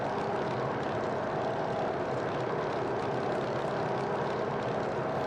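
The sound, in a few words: Grumman F3F model airplane engine and spinning propeller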